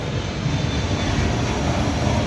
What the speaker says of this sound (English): airplane, get out of here